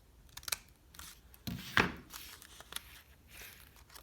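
Scissors snip two small cuts into folded paper for a handmade pop-up book: a few sharp, close cuts with soft paper rustling between them.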